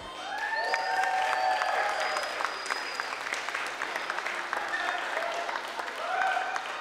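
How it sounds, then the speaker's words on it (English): Wedding reception guests applaud to welcome the bridal party, a steady sustained round of clapping from a room of people with faint whistles and voices underneath. "big applause with you to welcome the bridal party tonight"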